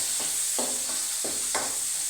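Onions frying in a pan for a gongura fish masala curry: a steady hiss of sizzling oil with a few soft scraping stirs of a spatula at regular intervals, no voices.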